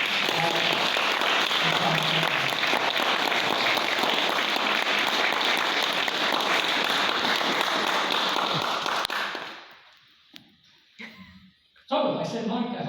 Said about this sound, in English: this is the applause line